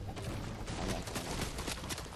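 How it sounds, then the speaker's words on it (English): Rapid gunfire bursts in the Fortnite video game, dense and continuous, with shots crackling one after another over a busy game soundscape. "Oh shoot, am I getting shot at?"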